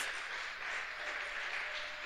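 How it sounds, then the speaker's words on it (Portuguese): A church congregation applauding during a service, a steady, soft wash of clapping that holds evenly for about two seconds, faint and distant with no voice on top. "Aplauda o Senhor Jesus, Espírito Santo de Deus"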